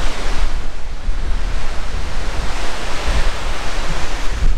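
The fast-flowing Jhelum river runs near glaciers on the Pahalgam route to Amarnath in Kashmir, mixing with a cold wind into a loud, continuous broadband roar of rushing water and gusts, with no voices.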